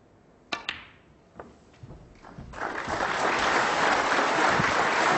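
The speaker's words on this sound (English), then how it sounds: "Got applause." Crowd applause in the Crucible snooker arena at a world championship semi-final, preceded by a few sharp clicks of balls. The clapping swells into a steady, dense wash that fills the room.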